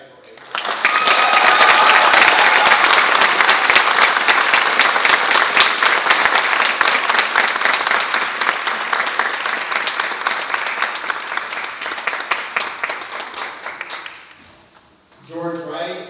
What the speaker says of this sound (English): Please join me in applauding Belmonte Salamanca for being nominated in the Personal Achievement category.